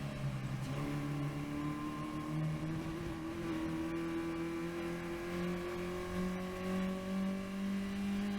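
A Caterham race car's engine drones on track at Oulton Park, with a steady whine climbing in pitch and wavering briefly as the driver misses a gear while passing.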